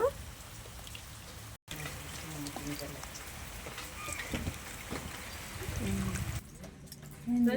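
Soaked tamarind juice pours and trickles into a pot of fish curry in a home kitchen, a steady wet splashing close by, with someone talking over it.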